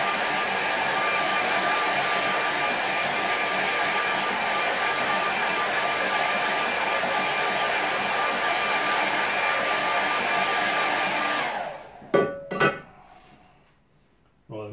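A hair dryer blows steadily on a watercolour painting of snow in a valley, a loud continuous whir that runs for about twelve seconds before cutting off, followed by a few brief clinks and knocks.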